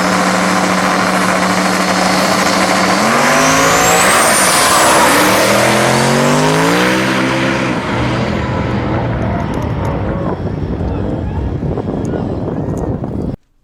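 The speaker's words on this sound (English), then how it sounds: "his single-turbo small-block Ford-powered Fox on what I believe is a personal best pass" Single-turbo small-block Ford-powered Fox body car making a drag racing pass, its loud engine rising in pitch through the gears before fading into distant roar, with a voice talking over it.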